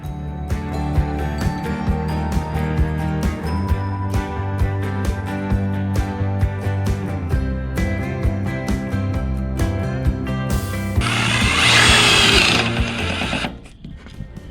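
A power drill drives screws into metal panels on an outdoor dog house build, its motor whirring loudly in sustained, shifting runs, ending in a short burst of harsh grinding noise before stopping.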